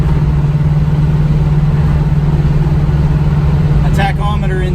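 A 1975 Pontiac Firebird restomod with a 455 stroker engine idling, a deep steady lumpy rumble with strong low hum, close and loud, with a voice speaking briefly at the end.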